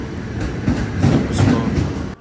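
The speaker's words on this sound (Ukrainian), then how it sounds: "по праву сторону вже ось стоїть мій поїзд" A passenger train stands at a station platform in a steady, loud rumble with a broad mechanical roar that swells slightly, then cuts off abruptly near the end.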